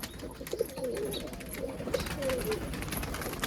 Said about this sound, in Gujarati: ચાલો આવી ગયા બધા કબૂતરા બારે.